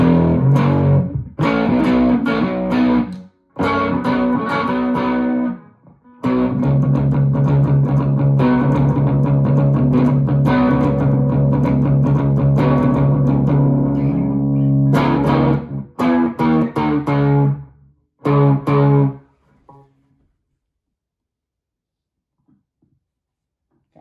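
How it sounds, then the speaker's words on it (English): An electric guitar played through distortion and reverb rings out in loud, sustained chords and riffs, broken by a few short gaps, then fades to quiet. "Kind of sounds like there's some reverb on there"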